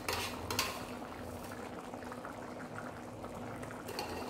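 Buffalo meat simmering in a pot of broth seasoned with asam gelugur and salt for Batak saksang, giving a steady, close bubbling boil with faint clinks of cookware.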